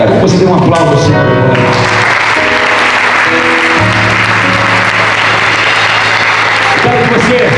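A church congregation breaks into loud, sustained applause and clapping, with voices mixed into the crowd noise throughout.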